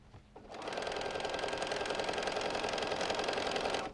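A sewing machine stitches a lined Christmas stocking seam, starting up after a brief pause and running in a steady, close, rapid whir before stopping at the end.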